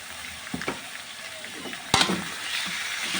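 Catfish bones and chili stir-fry in a hot pan, a continuous sizzle broken by a few sharp scraping clacks of a spatula, the loudest burst near the middle.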